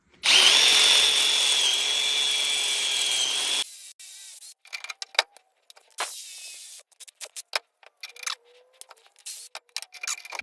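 A 1/2 inch step bit drills through metal on a Craftsman 21-inch push mower during restoration: a loud, steady whine for several seconds, then short bursts of grinding, scraping and rattling pieces.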